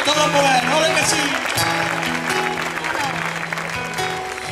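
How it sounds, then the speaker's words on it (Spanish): A live concert audience applauds at an evening copla show during a cultural week in Chipiona, Spain, with steady clapping mixed with music and voices. "¡Ole, ese aplauso!"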